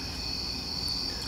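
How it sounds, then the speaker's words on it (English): Crickets chirp in a backyard at night with a continuous high, shrill trill. The sound is steady and fairly loud, with no voices over it. "I hear the crickets."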